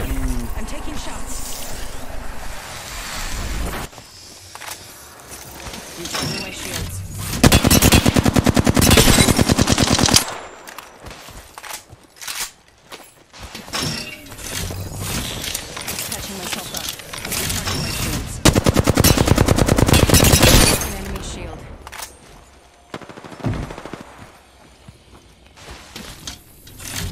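Automatic gunfire rattles continuously in an Apex Legends match, loud rapid bursts swelling and receding in waves over dense game noise, with a player talking through it.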